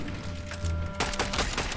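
Gunfire in a Fortnite match, a dense burst of rapid shots and booms that starts abruptly about a second in and continues over steady game background noise.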